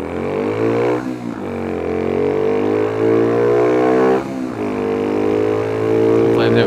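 A Honda Trail 125 (CT125) fitted with a new 164cc piston and cylinder pulls away, its engine revving up through the gears in a close, loud, continuous drone with brief dips at each shift.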